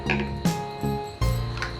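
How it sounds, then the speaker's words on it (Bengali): Banana pieces dropped into a blender jar for a homemade banana lassi, four dull knocking thuds spaced about half a second apart against the container, close and moderately loud with no talking. "কলার টুকরোগুলো নিয়ে নেব"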